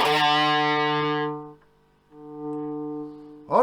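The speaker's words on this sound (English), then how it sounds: "I bet it's the distortion pedal's making it sound funny." Neck-position pickup of a refurbished Japanese Les Paul electric guitar played through a distortion pedal: a sustained, harmonically rich chord rings loudly, fades out midway, then a second held chord swells back in, alone with no talking.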